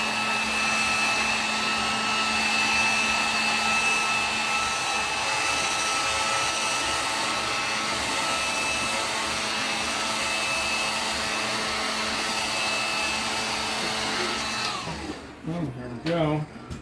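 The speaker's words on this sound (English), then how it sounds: "And I'll go one more pass over with this dryer." A hair dryer blows steadily and loudly at close range for a long stretch while drying a homemade truck simulator dash, then cuts off near the end with some handling noise.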